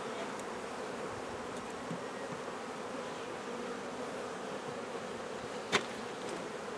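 Honey bees hum around an open beehive stacked with honey supers, a dense continuous buzz close by with a brief sharp knock near the end.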